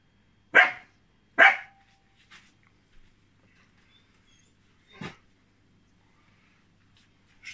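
Two sharp, loud dog barks in quick succession, then quieter scattered yips and one more bark a few seconds later, close by in a quiet space.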